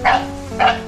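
A house dog barks at a visiting dog, two sharp close barks about half a second apart.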